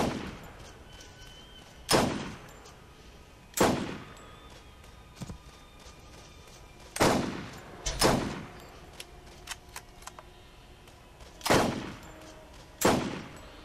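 Sniper rifle shots fired at bandits in the video game Borderlands, about eight loud, sharp reports spaced a second or more apart, with quieter clicks and game sounds between them and no talking.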